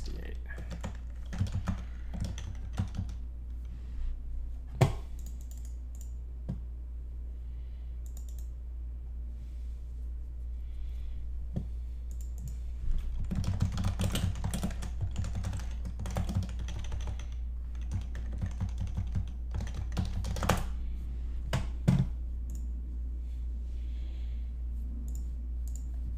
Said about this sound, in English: We're just going to type in 768.